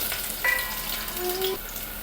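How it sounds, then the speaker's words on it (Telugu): Onion pieces dropped into hot ghee and oil for coconut milk rice, giving a steady close sizzle with a brief clatter and stirring scrape in the middle, no voices. "నెయ్యి ఆయిల్ బాగా వేడెక్కిన తర్వాత ఆనియన్ ముక్కలు ఇందులో వేసుకోవాలి."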